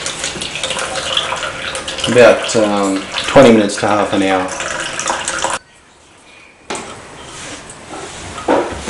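Water runs steadily from a tap while reverse osmosis filters are flushed, a constant close hiss under a voice, then a brief gap before the flow resumes.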